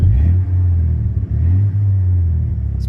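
A 4.9 turbo engine with a Flowmaster exhaust, catalytic converters fitted, idles and revs with a deep, steady, close rumble that holds throughout, dipping briefly mid-clip.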